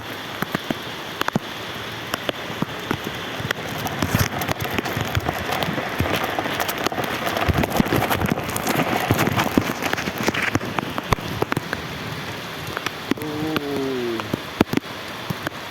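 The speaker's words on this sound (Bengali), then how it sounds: "বৃষ্টিটা একটু কমে এসছে" Steady rain falls and patters on surfaces outdoors as a storm eases, a dense continuous hiss with scattered sharper drop hits, fairly close and alone.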